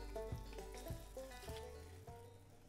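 Eggs frying in oil in a pan, a steady close sizzle with a few soft knocks of a utensil against the pan spaced through it.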